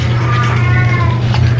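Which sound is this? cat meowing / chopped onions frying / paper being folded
cat meowing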